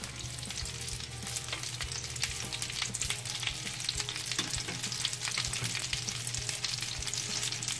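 Paprika pancakes (paprika-jeon) made with bell peppers and assorted leftover vegetables fry in a pan with a steady, dense sizzle, continuous and fairly close throughout, with no talking.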